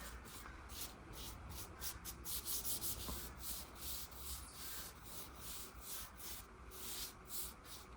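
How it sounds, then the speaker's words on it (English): Fine sanding by hand on a wooden mid-century modern china cabinet after pre-stain has been applied. Soft, quiet, rhythmic back-and-forth rubbing strokes repeat steadily, with no voices. "I usually do a little fine sanding at least."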